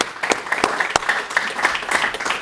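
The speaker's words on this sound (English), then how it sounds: "Big round of applause for our panel." Audience applauds a rabbinic panel after a talk on parenting and shalom bayit, a short burst of close, brisk clapping from a room of listeners.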